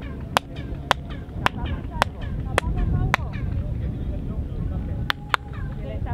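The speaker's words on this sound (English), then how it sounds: "when I clap my hands, the sound of the bird echoes out the top of the chamber" Sharp hand claps ring out one at a time inside a stone temple chamber at Chichen Itza, each throwing back a chirping, bird-like echo, with several evenly spaced claps and voices murmuring in between.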